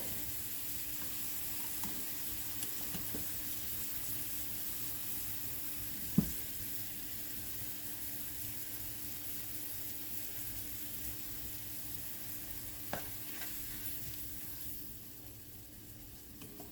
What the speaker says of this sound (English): we're just going to let this saute until it kind of starts browning a little bit